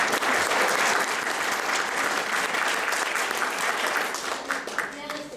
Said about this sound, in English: a wonderful round of applause for Mr.